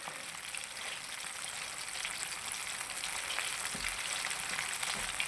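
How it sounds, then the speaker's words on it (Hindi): Chicken wings fry in oil over medium heat, a steady crackling sizzle full of fine pops and spits, fairly quiet and close with no talking. "मैंने बिल्कुल मीडियम इसको आग पर कर रहा हूँ फ्राई।"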